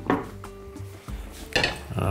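A metal cooking pot clanks and scrapes as it is picked up and set down in a home kitchen while soup is started with butter; a few sharp close knocks with ringing tones.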